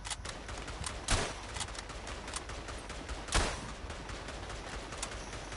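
Mortar shells land in the First World War shooter Verdun: two sharp, heavy booms about two seconds apart stand out over a steady crackle of distant battlefield ambience and scattered gunfire, with no talking.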